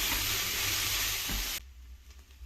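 Sliced onions sautéing in hot oil until golden brown for homemade chicken biryani, a loud dense sizzle that cuts off suddenly partway through, leaving a faint, quieter background with occasional light sounds.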